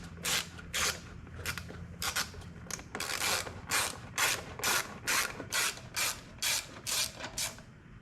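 A hand ratchet clicks in quick repeated strokes while undoing a screw on the fender of a KTM 250 EXC dirt bike, about a dozen short rasping bursts close up, in a quiet room.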